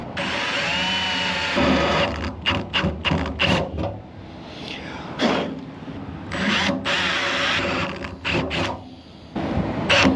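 A power drill bores through two layers of truck tailgate sheet metal, grinding in loud, uneven bursts with brief stops and restarts, close to the listener.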